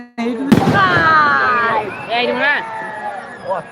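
A single sharp firework bang bursts at night during Dharmaraj puja, followed by excited voices talking and calling out close by.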